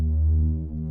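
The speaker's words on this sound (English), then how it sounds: "So for the bass, I grabbed this wonk bass" Wonk bass synth holds one thick, low sustained note with a dense harmonic buzz, loud and alone for under a second.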